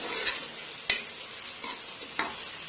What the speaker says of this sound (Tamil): வெங்காயம் நல்லா பொன்னிறமா ஆகுற வரைக்கும் நல்லா வதக்கிக்கலாம்.